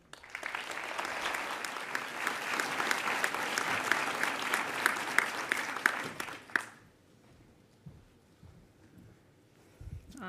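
Audience applause at a university graduation ceremony for a graduate-level student called to the stage, a dense, steady crowd of clapping lasting several seconds before stopping abruptly, followed by near-quiet room noise.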